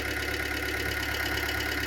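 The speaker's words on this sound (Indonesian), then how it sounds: "bongkar semak lagi ini PC 78US Komatsu ya. Ini baru mau mulai kerja, pemanasin mesin dulu ya." A Komatsu PC78US excavator engine idles steadily while warming up before clearing brush, a constant loud rumbling drone with a faint regular pulse and no breaks.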